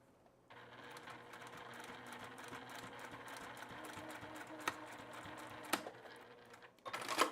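A Baby Lock Sashiko sewing machine stitches a tote bag seam with a fast, even mechanical chatter heard up close, broken by a few sharp clicks and knocks as the fabric is pushed along near the end.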